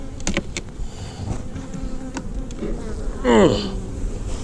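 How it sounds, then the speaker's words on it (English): Honey bees buzzing around an open beehive colony, a steady hum of many wings close by, with individual bees zipping past now and then and one louder buzz sweeping near. "look at the bees"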